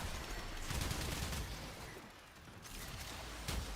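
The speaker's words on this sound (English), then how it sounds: "Good thing I've got a ridiculous shotgun." Shotgun blasts in the video game Warframe, a run of quick booming shots with mechanical clatter between them, loud and steady throughout with no one talking.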